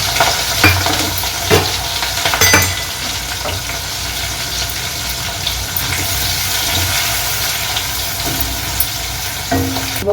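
Mustard seeds, cumin and dried red chilies sizzle in hot oil for atukula chuduva, a poha snack mixture, as a steady loud close hiss with scattered pops and crackles and no talk.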